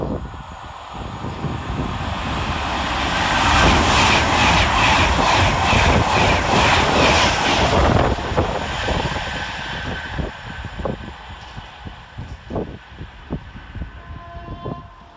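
Class 390 electric train 390.042 on the Manchester Piccadilly to London Euston run speeds through Nuneaton station, a loud rushing roar with rhythmic wheel clatter that swells to a peak and then fades into scattered clicks and rattles.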